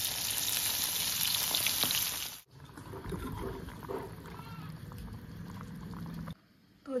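Hilsa shutki chutney cooking in a pan, loud hissing sizzle for about two seconds, then a cut to quieter bubbling and clatter, ending in a near-silent gap, close by with no clear talking.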